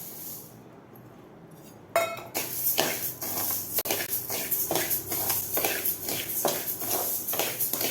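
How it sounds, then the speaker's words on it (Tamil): Pearl millet grains dry-roasting in a pan, with a steady rustling scrape and clinks of a ladle stirring the grain, growing louder after the first couple of seconds and continuing in quick repeated strokes. "அடுத்தது கம்பு போட்டு நம்ம வறுக்கலாம்."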